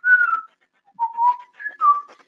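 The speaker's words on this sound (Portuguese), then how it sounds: "E eles têm uma linguagem que é só assobiada, né?" Whistled language of the kind used while hunting: a person whistles clear sliding tones in four separate phrases, rising and falling like speech melody, close and loud with silence between.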